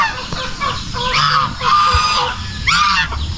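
Geese honk loudly and close on a farm, several harsh calls in quick succession over a faint outdoor background.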